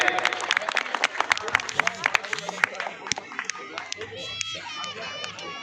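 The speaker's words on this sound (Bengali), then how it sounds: "সবাই মিলে জোরদার তালিয়া প্লিজ, সবাই মিলে" A crowd at a cricket ground inauguration breaks into lively applause, sharp claps crackling close and loud over a steady murmur of voices, with occasional shouts mixed in.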